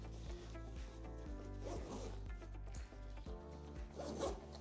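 A backpack with water-resistant zippers being zipped closed, a steady rasping run of zipper teeth with a few brief pauses and tugs, close and fairly loud with no talk.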